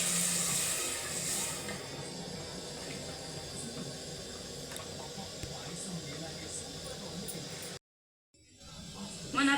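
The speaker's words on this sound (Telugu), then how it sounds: "వాటర్ వేసుకోవాలి." Water streams into a cooking pot while paneer pulao is being made, a soft continuous hiss of pouring that runs for several seconds before a brief silence, with faint kitchen clatter around it.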